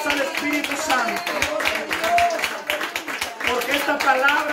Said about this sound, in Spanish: Padre, dele palmas al Espíritu Santo